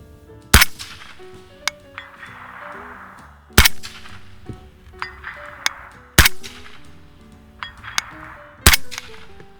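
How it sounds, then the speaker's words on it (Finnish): Four sharp, loud shots from an Ensio Firearms KAR-21 rifle in .308 Win, spaced about three seconds apart outdoors, each a sudden crack with a short decaying tail, with fainter metallic clinks between them. "Nyt ammuin tahallani ohi."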